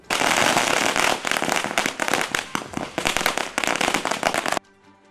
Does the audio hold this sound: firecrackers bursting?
yes